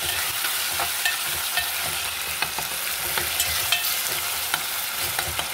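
Tomatoes fry in hot oil for an Andhra-style bottle gourd dal, a steady dense sizzle with light scraping stirs now and then, close and without talk.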